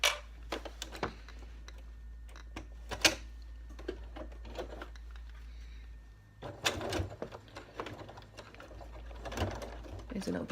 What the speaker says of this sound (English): I'm just going to sew down this side and sew down this side just to complete the bag